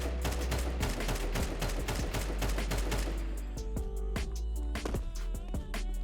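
Counter-Strike 2 gunshots fired through a panel on the Train map, a rapid string of sharp shots at moderate volume followed by a few slower, spaced shots, with no talk.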